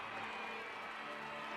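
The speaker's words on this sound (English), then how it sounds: "you can hear the welcome from the crowd" Outdoor crowd at Princess Anne's royal wedding greeting the bride and groom, a steady distant wash of cheering and applause filling the whole stretch at low level.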